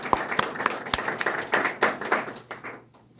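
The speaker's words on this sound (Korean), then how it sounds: "박수 한번 해주세요." An audience at a fathers' seminar session claps, starting with a few separate sharp claps in a loose rhythm, then swelling into a fuller burst of group applause before fading out near the end.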